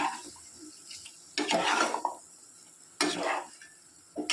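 Cauliflower gravy ingredients sautéing in a pan, with two loud bursts of sizzling and stirring scrapes separated by quieter stretches of low frying noise.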